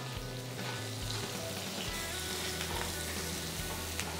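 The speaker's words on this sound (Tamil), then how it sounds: "பன்னீர் பொறிச்ச அதே பாத்திரத்துலேயே நம்ம வெங்காயம் தக்காளியை வதக்கி எடுத்துக்கலாம்" Onions and tomatoes sauté in the pan already used to fry paneer, a steady dense sizzle running close and loud for the whole stretch, with faint scrapes of stirring and no voices.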